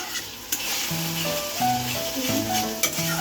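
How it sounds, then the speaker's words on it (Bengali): Masala spices frying in oil while being stirred in a pan, a steady close sizzle with scraping stirring strokes and occasional clinks, no voices. "এরপর এটাকে দিয়ে আমি মশলাটাকে ভালো করে কষিয়ে নেব।"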